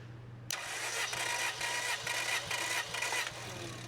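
Engine cranking on the starter during a compression test of the first cylinder, a steady rhythmic churning of about five quick compression pulses, loud and close, starting abruptly and running alone.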